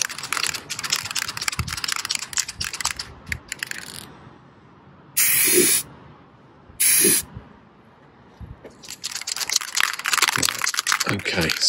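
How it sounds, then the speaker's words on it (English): Two short, loud hissing bursts of an aerosol spray can coating a Land Rover Freelander 2 winch part, each lasting under a second with a pause between, set amid rustling and handling noise. "then I'll give it a spray with this stuff"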